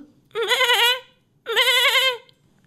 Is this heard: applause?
no